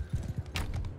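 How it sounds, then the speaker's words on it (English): Hooves clatter in a quick, quiet run of clip-clop beats, with a horse charging in the Mount and Blade Bannerlord castle siege. "Wait, did I hit a horse there?"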